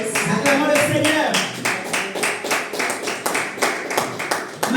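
A church congregation claps together in a steady rhythmic beat to acclaim the Lord, the claps loud and evenly spaced, with voices singing or speaking over them.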